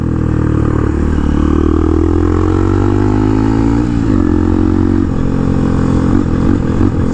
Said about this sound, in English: oh dude, listen to it downshift